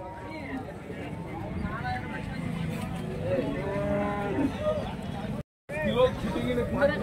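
Cattle at a livestock market in Kundarapalli, Krishnagiri district, Tamil Nadu give several drawn-out moos at moderate distance. Market chatter and people talking run underneath throughout, with a brief dropout near the end.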